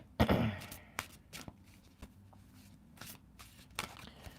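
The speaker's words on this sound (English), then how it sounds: "Give it a couple more shuffles to get it going." A deck of tarot cards is shuffled by hand, a quick burst of riffling followed by scattered soft taps and flicks of the cards, close and fairly quiet.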